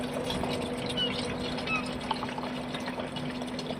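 Water poured steadily into the tank of a Joa Camp 60F portable camping toilet, a continuous splashing gurgle that stays even and close throughout.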